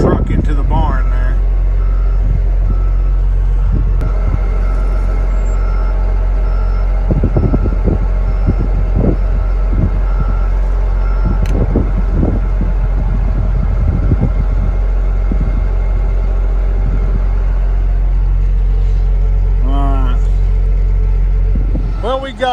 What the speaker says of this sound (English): He's going to back up over here in the barn.